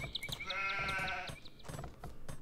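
Several sheep bleat in quick succession in the video game Age of Empires, a row of short, nasal calls over a faint background of soft clicks and game noise.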